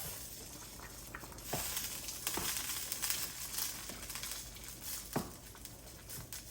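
Seasoned callaloo rice is stirred in a pot with a spoon, giving a continuous close sizzle and rustle with several sharp scraping taps against the pot.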